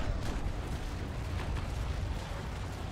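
Dense, continuous rumbling of naval cannon fire in the game Naval Action, booms overlapping into a steady roar with occasional sharper bursts, loud throughout with no voices.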